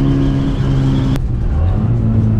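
Loud, close engine of a 1965 Austin Mini Cooper S revving on the move, a steady drone that briefly breaks with a sharp click midway before the pitch drops and climbs again.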